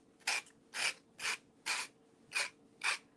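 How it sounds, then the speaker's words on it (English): Sandpaper is rubbed by hand over a decoupage napkin on a round Christmas ornament, giving six even, evenly spaced rasping strokes, close and fairly quiet. "Now, same thing, you want to make sure you're sanding back."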